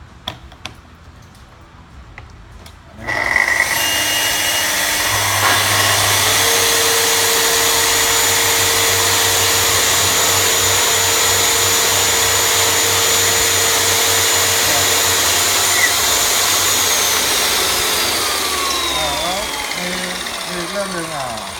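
A Makita track saw's motor whines up after a quiet start and runs steadily and loudly for about eighteen seconds, with a sustained tonal drone that eases off slightly near the end.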